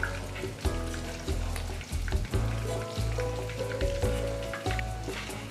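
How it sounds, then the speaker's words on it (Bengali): Boneless chicken pakora sizzles steadily as it fries in hot oil, a close, continuous crackle with occasional stirring and turning sounds. "কিছুক্ষণ ভাজার পরই আমি উল্টে দিচ্ছি।"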